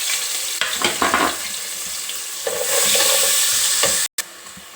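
Sliced onion frying in hot oil with cloves, cinnamon and cumin, a loud close crackling sizzle with stirring scrapes that swells midway, then breaks off in a brief gap.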